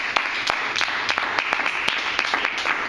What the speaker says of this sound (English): I would like to give you a round of applause once again.